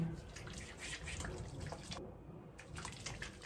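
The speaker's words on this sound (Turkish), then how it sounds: "Sıcak suya açacağım." Hot water runs steadily from a bathroom tap, a continuous close hiss that briefly drops out midway before resuming.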